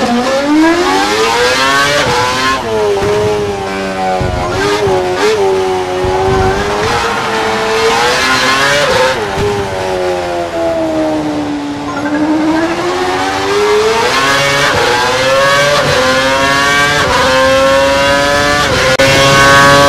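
Formula 1 car engine in F1 2012 screaming loudly as it accelerates, with rising and falling revs through gear changes and corners, a continuous high-pitched whine up close with brief tire squeals.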